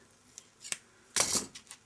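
Old scissors snip through a piece of protective pull-off film: a few faint clicks, then one louder, crisp cutting crunch followed by a smaller snip, close and quiet with no talking.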